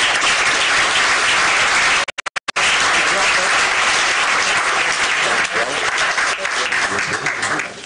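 Strong, loud applause for two political candidates at a county political forum, steady clapping throughout with a brief dropout near the start, voices faintly mixed in.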